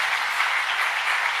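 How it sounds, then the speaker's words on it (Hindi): An audience claps together at a Hindu religious discourse, a brief burst of dense, even applause with no voices over it. "बहुत तालियों के साथ हम आदर करते हैं आपका।"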